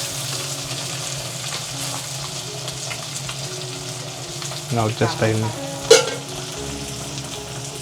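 Lepa fish frying on a tawa in a village home kitchen, a steady low sizzle throughout with a few louder bursts and clinks of stirring near the end.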